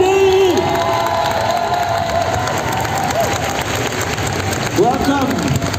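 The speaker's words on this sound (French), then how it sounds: "s'il vous plaît, on l'applaudit." A convention crowd cheers and applauds at a manga event in Paris, a dense wash of claps and shouts with a loud voice calling out over it and whistling cries rising near the end.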